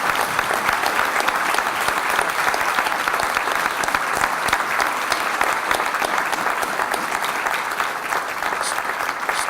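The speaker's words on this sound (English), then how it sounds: "Give them a round of applause." Steady, dense applause from an audience at a leaders and achievers event honoring standing scholarship recipients, loud and sustained throughout with no pause.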